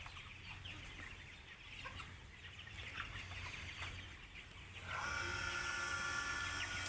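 Soft clucking from a group of chickens amid a steady background hum, with a brighter, louder stretch of bird sounds toward the end.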